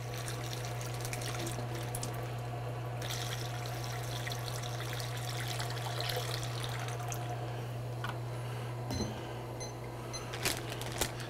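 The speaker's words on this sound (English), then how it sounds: "now we're gonna take the water and we're gonna pour it into your bag" Water from a shower poured into a collection bag, a steady trickling wash with a constant low hum throughout and a few soft handling clicks near the end.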